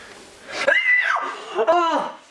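A woman's loud, drawn-out scream in a dramatized scene from a French high-school film, two rising and falling cries close up with breathy edges.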